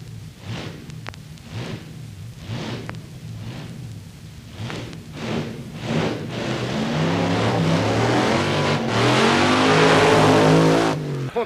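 A car drives past and accelerates, its engine rising from a low rumble to a loud, sustained roar, with intermittent bumps and clicks early on and no speech.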